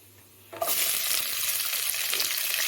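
Onions hit a hot pan for an onion masala after a brief quiet moment, bursting into a loud, steady sizzle with stirring that carries on to the end.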